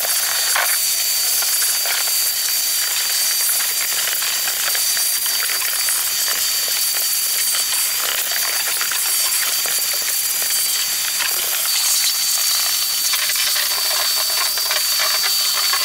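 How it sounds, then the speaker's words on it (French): A wet and dry vacuum cleaner runs steadily while cleaning a car's interior, giving a continuous loud hiss and whine for the whole stretch, with small rattling and clicking bumps as the nozzle moves around. "je vous conseille un aspirateur eau et poussière"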